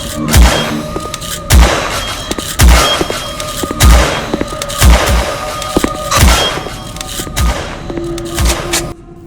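Gun firing at monsters in the video game Cryospace: loud, heavy booming shots about once a second, each a sharp thud with a short tail, repeating evenly across the stretch.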